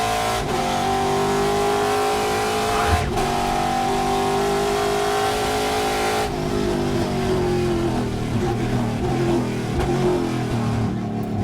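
Trans Am race car engine heard onboard at WeatherTech Raceway Laguna Seca during a Western Championship race, a loud, close, continuous roar that climbs and drops in pitch through gear changes and braking.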